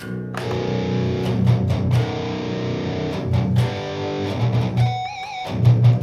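Electric guitar played through a Boss MT-2 Metal Zone distortion pedal at 60% gain, giving a thick, saturated riffing tone with sustained chords and short pauses, loud and alone without talk.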